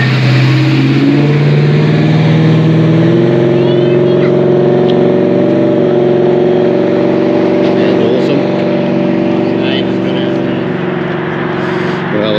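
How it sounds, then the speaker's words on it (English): A pickup truck with an LS V8 engine pulls away at a cars and coffee meet, its loud, steady engine note droning and rising slightly as it drives off, with crowd talk mixed underneath. "Now we get the truck heading off. Very cool. It's got an LS in it."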